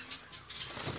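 Star finches flutter inside a pet shop cage at Bristol Petstop, a few quick soft bursts of wingbeats close by, followed by a denser rustle of movement.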